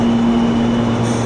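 A subway train arrives at a station platform in Almaty, Kazakhstan, producing a loud, steady rumble with a sustained electric hum throughout.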